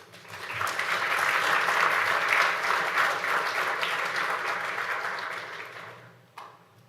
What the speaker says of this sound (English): So let's give him a warm round of applause.